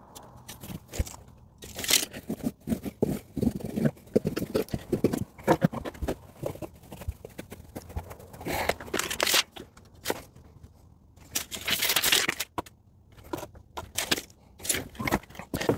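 Rockwool insulation board is cut by hand in irregular bursts, giving close, dry, fibrous crunching and tearing strokes separated by short pauses.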